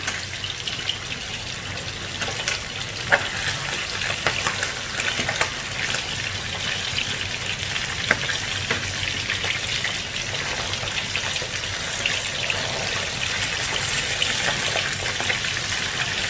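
Catfish coated in turmeric frying in hot oil in a pan, a steady dense sizzle and crackle with scattered sharp pops, continuous and close throughout.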